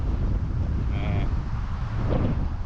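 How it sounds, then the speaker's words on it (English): Strong gusty wind buffeting a microphone while bikepacking in the Florida Keys, a steady roaring rumble throughout, with a brief faint tone partway through. "it is windy as crap today."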